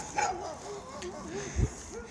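A skittish dog heard on an outdoor walk gives a couple of short, moderately distant barks with soft whining tones between them.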